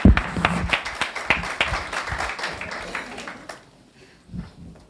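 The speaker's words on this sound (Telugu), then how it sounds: "అందరూ చప్పట్లు కొట్టి బిడ్డని ఆహ్వానంగా" A church congregation claps to welcome a speaker, a dense burst of hand claps that is loudest at the start, thins out over about three seconds, then gives way to quiet with a few faint sounds.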